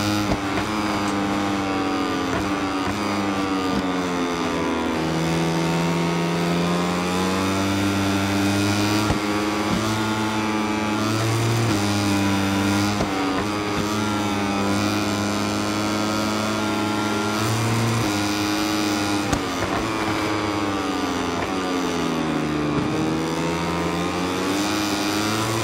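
A Moto3 racing motorcycle in the MotoGP video game screams continuously at high revs, its pitch climbing and dipping through gear changes and corners, loud and constant for the whole stretch with no speech.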